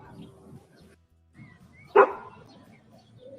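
A dog barks once from a video playing in the room, a single short bark heard fairly clearly over a quiet background, with no one speaking.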